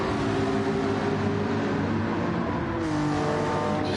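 A McLaren Gr.4 race car in a racing video game drives under steady loud engine drone, with a brief dip and pitch change near the end as it shifts gear.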